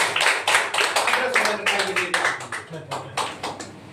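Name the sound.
audience clapping hands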